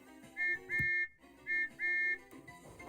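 A steam locomotive's faulty, wonky whistle toots in four short blasts, two pairs, each with an odd warbling tone over background music.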